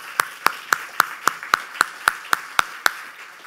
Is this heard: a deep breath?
no